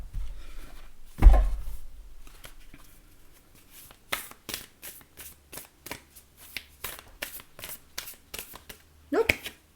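A deck of Starseed Oracle cards is shuffled by hand in a quiet room, with a run of quick riffling bursts and soft slaps, preceded by a thump as the deck is handled, close up and fairly soft.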